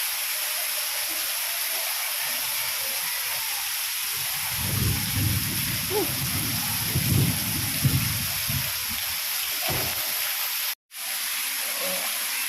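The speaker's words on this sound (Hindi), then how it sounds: "पूरा झमाझम बारिश हो रहे हैं" Steady, dense heavy downpour hiss fills the whole stretch, with a few low rumbling knocks midway and a brief dropout near the end.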